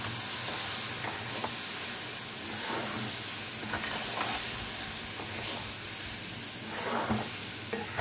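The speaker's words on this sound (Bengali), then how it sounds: "এখন এই আমের পিউরিটাকে সুজির সাথে খুব ভালো করে মিশিয়ে নেব" Mango puree being stirred into semolina in a pan, a steady close scraping and faint sizzling hiss with soft spoon clatters scattered throughout, no voices.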